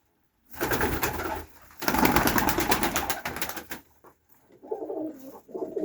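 Pigeons coo in soft, throaty bursts close by in freezing winter weather, overlapping with a dense rustle of wings and movement before quieter, scattered calls.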